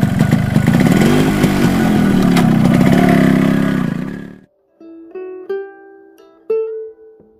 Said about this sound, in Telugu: మా వాడి బైక్ ఎక్కి వెళ్ళడం స్టార్ట్ అయ్యాను